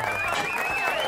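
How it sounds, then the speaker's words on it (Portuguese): A studio audience claps and cheers in a steady, dense wash of applause on a live talk show, with a voice and whistling faintly mixed in. "Recebam com muitos aplausos Fábio Faria."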